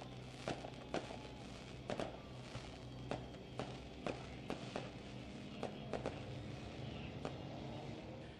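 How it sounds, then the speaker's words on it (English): Fireworks go off above a mini stock car race track during a nighttime main event, sounding as repeated sharp distant pops and bangs at irregular intervals over a steady rumble of engines and crowd noise. "Lone Wolf fireworks lighting up the sky for our main event here tonight"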